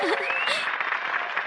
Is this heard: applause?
yes